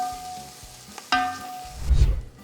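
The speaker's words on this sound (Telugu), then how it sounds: "మంచిగా ఈ గీలో garam masala, coconut, green peas అన్నీ బాగా 2 నుంచి 3 నిమిషాలు ఫ్రై చేసుకుందాం." Garam masala, grated coconut and green peas frying in ghee in a pan, a soft sizzle with a few stirring scrapes and a louder stir near the end, no voices.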